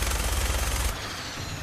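Gunfire in Fallout 4 opens with a loud, rapid burst of automatic shots that cuts off sharply about a second in, leaving a quieter rumble behind.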